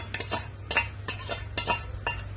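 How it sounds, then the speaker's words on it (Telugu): A spoon stirs a tempering of urad dal, mustard seeds and cumin in a pan for carrot pachadi, giving repeated rhythmic metallic scrapes and clinks close by, with no talking. "మినపప్పు, ఆవాలు, జీలకర్ర పోపులాగా కలిపేద్దాం."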